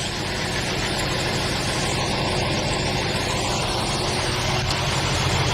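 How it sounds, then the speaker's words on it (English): A 2007 Jeep Wrangler engine idles steadily and close by, its AC compressor clutch engaging under a constant low mechanical drone with a broad hiss and no talking. "Clutch just engaged."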